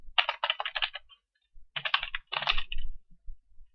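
Typing on a computer keyboard during a basic computing lesson, with two bursts of rapid close key clicks separated by a short pause and a few softer taps at the end, no voices.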